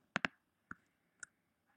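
Computer mouse clicks sound close and crisp: a quick double click, then two single clicks spaced apart, in a quiet room.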